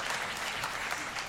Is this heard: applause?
yes